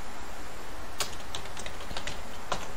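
A computer keyboard is typed on while records are entered into an Excel data entry form, producing a short run of light, irregular key clicks close by against steady background noise, with no talking.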